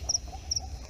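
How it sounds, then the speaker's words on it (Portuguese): Frogs croaking and crickets chirping on a dark night roadside near Parnaíba, a steady low chorus with brief faint high chirps repeating twice, distant and soft. "Tudo escuro, os grilos e os sapos."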